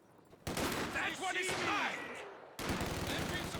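Machine gun fire in a Company of Heroes 2 battle, rapid bursts of shots at moderate distance, starting abruptly and continuing amid other battlefield noise.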